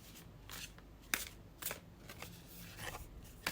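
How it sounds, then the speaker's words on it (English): A tarot deck is shuffled by hand, giving soft papery riffles and sharp card slaps in an uneven rhythm, close and quiet. "Let's start shuffling our tarot decks."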